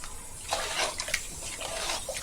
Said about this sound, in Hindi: आधा लीटर पानी डाले इसमें